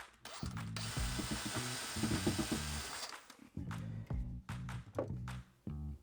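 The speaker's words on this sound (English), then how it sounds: "we know straight down that we can put a couple of screws in there into the wood" Power drill running in bursts to drive a couple of screws into wood while fitting a switch bracket inside a custom wardrobe, with a steady whine near the start, then several shorter pulses and ratcheting stops, close and loud.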